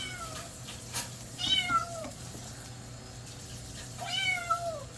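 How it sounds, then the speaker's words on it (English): Kittens mewing and crying in the background, several rising-falling cries spaced over a few seconds, fairly faint against a steady room hum while crochet work goes on. "excuse the kittens crying in the background"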